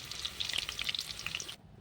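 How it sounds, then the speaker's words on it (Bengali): Potatoes fry in oil over a wood-fired earthen stove, a faint, crackling sizzle with small pops that cuts off abruptly near the end. "আলুটা ততক্ষণ একটু ভাজা হোক"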